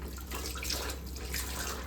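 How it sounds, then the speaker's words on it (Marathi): Sliced onions are rinsed in water, giving a steady close splashing, running-water wash with faint drips throughout, no talking. "आता मी एक पाण्यामध्ये धुवून काढते"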